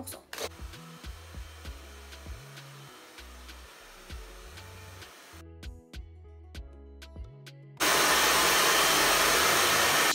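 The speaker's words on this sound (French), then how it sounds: "Donc là c'est mon sèche-cheveux Babyliss Pro à bleu libellule" A Babyliss Pro hair dryer blows steadily for a few seconds near the end, loud and close, after a stretch of quieter handling noises and brief silence.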